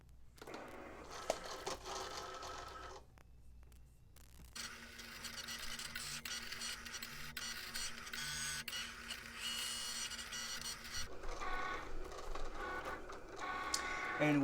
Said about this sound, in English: while that's cutting, then I'll get the black vinyl ready